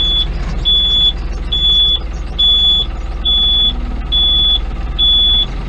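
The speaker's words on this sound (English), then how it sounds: "we're going to get a beep here for a minute" Truck reversing alarm beeping steadily, seven evenly spaced high tones about once per second over a low engine rumble, loud and close, no talking.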